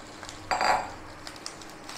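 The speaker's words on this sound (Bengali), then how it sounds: "এই ম্যাগিটা দিয়ে দেবো।" Maggi noodles drop into a pan of cooked spiced vegetables, a single soft rustling thump followed by light stirring clinks and a faint sizzle, close and fairly quiet.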